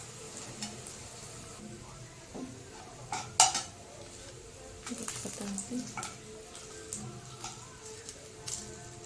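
Whole spices tipped into browned fried onion in a pot for chicken biryani: scattered metallic clinks and a sharp clatter against the pot over a faint, steady sizzle, with nobody talking.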